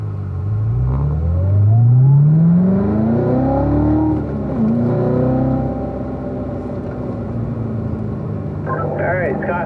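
A Corvette on a race track during an owners school rolls forward and builds pace, its engine rumbling and rising in pitch up close, then settling into a steady drone.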